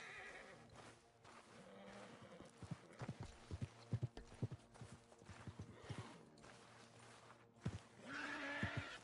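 Horse hooves clip-clop on ground in Red Dead Redemption 2, irregular close steps mixed with snorts and a whinny near the end, with no talk over them.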